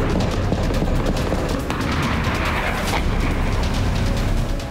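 Explosions in Balochistan sound as dense, continuous rumbling booms with crackling bursts, loud and sustained throughout, with no clear gaps.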